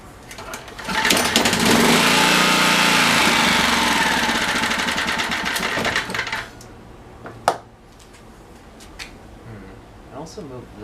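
A small GN190 engine runs after a governor adjustment. It gives a loud, steady buzzing drone for about six seconds, then cuts off, leaving faint clicks and a single sharp knock.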